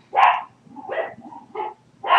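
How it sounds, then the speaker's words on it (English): Dogs bark in loud, close bursts, with a sharp first bark followed by quieter yips and then another strong bark, all in a short indoor stretch with no one talking. "Ignore my dogs."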